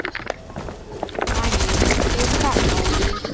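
Rapid Stinger SMG fire in Fortnite, near and loud, with bursts of shots growing denser after the first second and continuing to the end, a voice faintly in the background.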